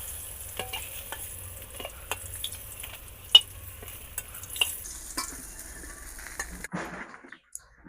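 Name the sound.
frying potato and cauliflower stems in fish-frying oil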